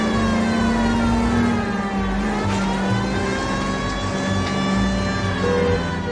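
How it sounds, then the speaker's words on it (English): A police car siren wails in the 1940s Los Angeles crime game L.A. Noire, a loud sustained tone over a revving car engine during a pursuit, with no talking. "I need my siren here."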